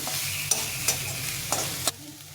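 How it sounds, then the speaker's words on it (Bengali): Onions for momo filling are stir-fried in a pan, giving a low continuous sizzle punctuated by four crisp spatula scrapes and clacks before the sound drops away. "পেঁয়াজটাকে একটু ভাজা ভাজা করে দিতে হবে"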